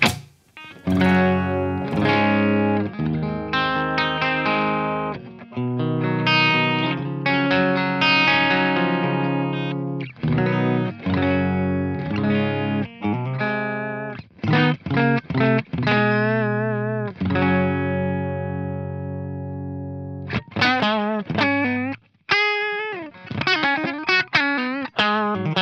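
ESP E-II Eclipse electric guitar on a clean amp channel with the bridge pickup, playing a long passage of ringing chords and single-note runs with effects, bright and close, with a brief pause before faster picked phrases and no talking.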